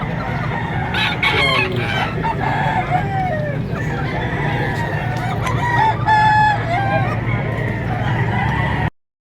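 Gilmore gamefowl roosters at a poultry market in Padre Garcia, Batangas crow repeatedly amid steady clucking from many birds, with a dense, continuous barnyard din throughout.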